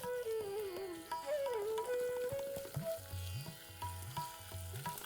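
Green chili pieces, cumin and ginger sauté in hot ghee in a kadhai, a steady soft sizzle running beneath louder background music throughout.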